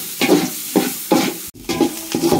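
Onions frying in a large pan, stirred in regular strokes with a spatula scraping the pan, each stroke bringing a burst of loud sizzle, close and without talk.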